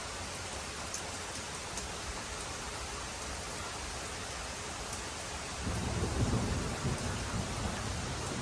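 Steady heavy rain pours throughout, with a deep rumble of thunder swelling in near the end and lingering under the downpour; no voices.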